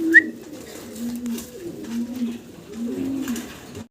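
A pair of black Modena pigeons on a farm coo nearby, low rolling coos repeated in soft throaty phrases, with a brief high chirp at the start.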